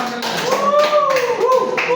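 A classroom of vocational electrical-engineering students clapping together, a short burst of hand claps with voices and a tonal sound over it.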